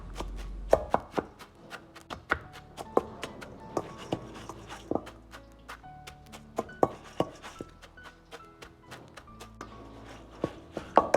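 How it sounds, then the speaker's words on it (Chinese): A spoon repeatedly knocks and crushes crispy deep-fried vermicelli noodles in a bowl, giving sharp irregular taps and crackles with brief gaps, close up and with no talking. "接着把控干油的粉丝倒入盆中，用勺子敲碎即可。"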